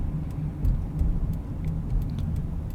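Road traffic on the west side of Norwich, Connecticut, on a Tuesday afternoon: a steady low engine rumble heard from inside a moving car, with faint passing vehicles and small ticks over the drone.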